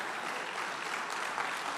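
A church congregation applauds in gratitude during a service, a soft, even spread of many hands clapping, fairly distant and low in level for a brief moment.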